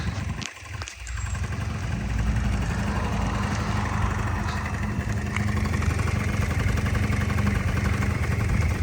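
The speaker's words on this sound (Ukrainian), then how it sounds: "Тільки послухайте, як працює двигун у нової техніці" A small Honda Dio Fit AF-27 scooter engine idles steadily and evenly for several seconds after a brief clunk at the start, close by with no talking.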